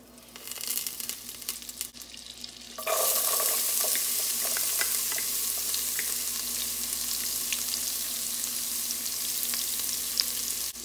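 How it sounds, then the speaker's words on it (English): Onions sautéing in butter and bacon drippings for keto cheeseburger soup: a steady, loud sizzle that jumps up sharply a few seconds in and then holds constant, with light crackles and no talking. "now we're gonna add our butter and onions and saute our onions in here"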